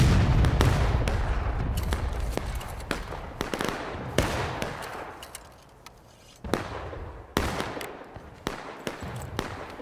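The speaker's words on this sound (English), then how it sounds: "If that was you firing canister" Canister shot from artillery in the War of Rights line battle, with heavy booms and sharp cracks going off in rapid uneven succession, some close and loud and others more distant, over continuous battlefield rumble.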